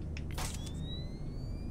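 A camera shutter in the video game Saw, a quick burst of mechanical clicks followed by a faint rising whine as the flash charges, set against a low hum.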